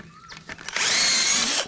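A power drill whines loudly and steadily for almost a second, bored into masonry while building a bathroom, preceded by a few short knocks and handling noises, close by.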